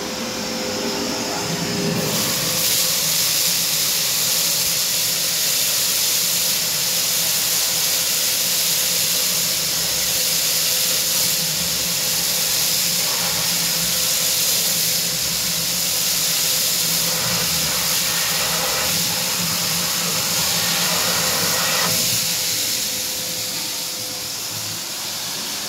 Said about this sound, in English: you can hear the beads going down the cyclone